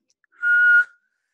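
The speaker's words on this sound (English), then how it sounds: "make the inhale in such a way that you whistle" A single whistled inhale through a rounded O-shaped mouth, a steady thin tone lasting under half a second, close and clear in silence.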